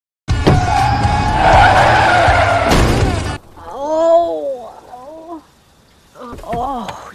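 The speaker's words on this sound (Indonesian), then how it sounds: "Terus tiba-tiba dia ngerem, ditabrak sama Sandy." A car brakes hard with a loud tire skid and then a crashing impact as it is rear-ended in a film scene, lasting about three seconds, followed by people talking.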